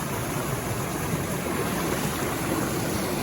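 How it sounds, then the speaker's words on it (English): Waterfall along the Ozark Highlands Trail, a steady, dense rushing roar of falling water heard close and alone, unbroken from start to finish. "You can see the waterfall right over here."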